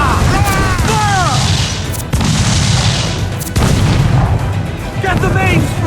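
Ship cannons firing in Assassin's Creed IV Black Flag, loud heavy booms in a dense continuous naval battle din with shouting voices over it.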